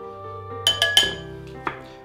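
Light clinks of a utensil against a bowl as flour is stirred together with baking powder and baking soda for poppy seed cupcakes, three or four quick taps close by, then a single softer knock.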